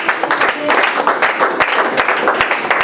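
A church congregation applauding, a loud, steady patter of many hands clapping with rhythmic accents, mixed with voices in the crowd.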